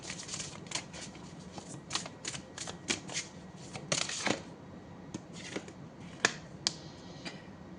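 Tarot cards are shuffled and drawn by hand, giving a string of quick crisp flicks and riffles at uneven intervals, close and fairly quiet, with no speech over them.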